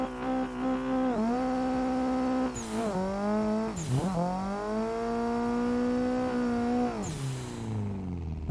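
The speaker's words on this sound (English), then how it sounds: "More engine sound, please." A car engine in an online drifting video game revs loudly and close, its pitch climbing and falling in repeated sweeps with brief tire squeals between them and no talking.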